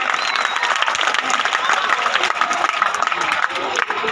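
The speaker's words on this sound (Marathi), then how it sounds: "विद्यार्थ्यांनी टाळ्या वाजवायच्या आहे" Students applauding at a school annual gathering, a dense, steady wash of clapping from a crowd that holds at an even level throughout, with a murmur of voices mixed in.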